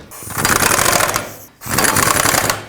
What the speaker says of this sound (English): I'm going to put these bolts back in to support the subframe